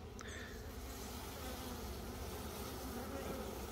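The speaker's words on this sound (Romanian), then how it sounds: "Și să procedăm la culesul albinelor." Honey bees swarm around a brood frame held above an open hive, a dense, steady buzzing hum that stays close and even throughout, with no talking.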